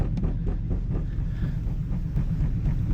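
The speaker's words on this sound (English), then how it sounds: "The hovercraft has so much thrust on the railroad." A steady low mechanical drone with heavy rumbling roar, like a big engine and fan running continuously close by, with wind buffeting, from a hovercraft rail car running on an abandoned railroad.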